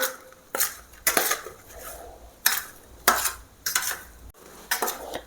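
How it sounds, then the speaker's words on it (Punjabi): Spoons clinking against a steel bowl or pan while ground black pepper and cumin are added and stirred into lemon pickle, with six or seven sharp metallic scrapes and taps coming at a loose rhythm, close and clear, and no voices. "ਕਾਲੀ ਮਿਰਚ ਤੇ ਇਹ ਜੀਰਾ ਮੈਂ ਇਕੱਠਾ ਹੀ ਕੁੱਟ ਲਿਆ ਆ ਇਹਨਾਂ ਨੂੰ ਵੀ ਦੋ ਨੂੰ ਪਾ ਦਾਂਗੇ ਆਪਾਂ ਮਿਕਸ ਕਰ ਲਵਾਂਗੇ"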